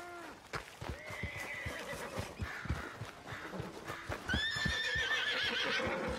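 A horse gives loud, shrill whinnies, with hooves clip-clopping in a steady rhythm and faint ambient noise behind, in the video game Red Dead Redemption 2.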